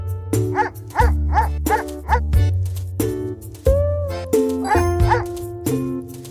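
Cartoonish dog barks from a farm video game repeat in quick bursts as the dog chases wild rabbits, over chiming, bell-like game music tones, close and bright.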